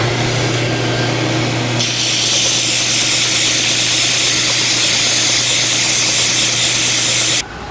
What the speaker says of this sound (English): Here we go, cutting our first length of pipe.